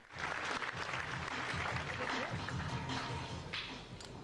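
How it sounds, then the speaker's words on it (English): Audience applause at Nintendo's E3 2001 presentation: a steady, dense clapping crowd sustained throughout, with faint background voices mixed in. "Let's have a big round of applause"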